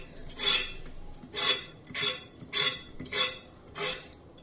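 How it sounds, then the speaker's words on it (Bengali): A knife cuts through a peeled pointed gourd (potol) in six evenly spaced, crisp strokes, each a short, bright scrape-and-chop heard up close with no talking. "আর একটা পটল কেটে আপনাদের দেখিয়ে দিচ্ছি"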